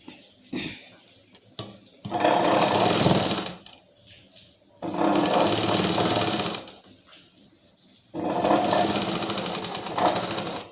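Sewing machine stitching fabric along a margin, three loud bursts of rapid mechanical whirring of a few seconds each, separated by quiet pauses with small clicks and handling sounds.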